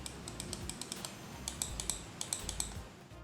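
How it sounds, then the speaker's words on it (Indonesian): Crisp clicks from the buttons of an ASUS SmartO MD200 mouse, a rapid irregular series of sharp, close taps, moderately quiet but not silent, with no voices. "suara kliknya nggak terlalu berisik"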